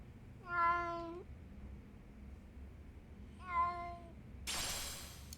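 Two clear cat meows in the video game Lost Judgment, one near the start and another about three seconds later, each fairly loud and close, followed by a burst of broadband noise at the end.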